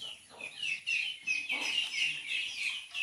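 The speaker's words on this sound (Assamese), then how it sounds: "তাৰপিছত হাঁহৰ পোৱালি কেইটামান আছে" A few ducklings on a rural homestead call in high, repeated peeps, a busy overlapping chorus close by with no talk.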